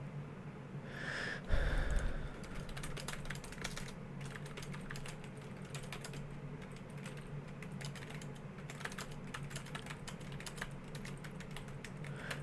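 Steady typing on a computer keyboard, quick close clicks running continuously through a quiet room, with a brief breath or snort near the start and no talking.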